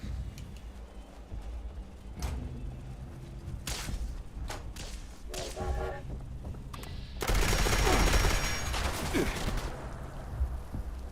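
Gunfire from a weapon in Fallout 76, rapid bursts of shots crackling through the game mix, growing louder and denser toward the end, with a player talking at times.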